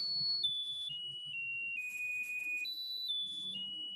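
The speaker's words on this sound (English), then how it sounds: "Then we can hear some birthday song." A small IC music box powered by a homemade charcoal battery plays a thin, high electronic beeping rendition of the birthday song. The tone is faint and steady, stepping through the melody note by note, with faint background noise.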